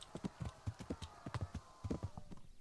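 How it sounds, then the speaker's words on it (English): Rapid hoofbeats of a horse galloping in the medieval game Kingdom Come: Deliverance, uneven clip-clop bursts in quick succession, close and clear with no talk over them. "Right, so this is a gallop."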